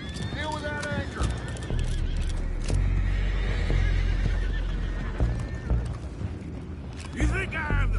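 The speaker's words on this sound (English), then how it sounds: "go find out about those horses down below" Several horses neigh and whinny with hooves clopping, kept on a boat below deck, loud and close amid creaking and commotion, with shouting voices over them.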